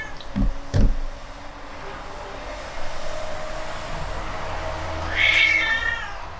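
A cat lets out a short, clear meow near the end, after a couple of soft thumps and low background hum, fairly close and heard on its own.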